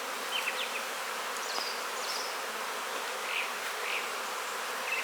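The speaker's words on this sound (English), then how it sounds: "the bees are starting to slowly walk up this" Honey bees walking up a cardboard ramp covered with a t-shirt into a small split colony, giving a steady soft buzzing hum with occasional louder individual bees passing close by.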